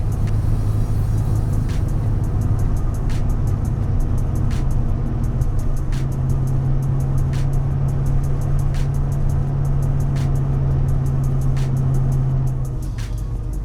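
Fox body Mustang with a rear 8.8 axle and 3.55 or 3.73 gearing, heard from inside the car as it pulls hard onto a highway: a loud, steady engine drone rises and climbs through the gears with short shift breaks, and no one speaks.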